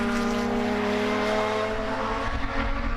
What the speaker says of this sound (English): the drivers really getting to enjoy running at full speed around the Dejon circuit